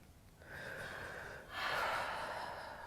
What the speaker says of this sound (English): And take a breath there.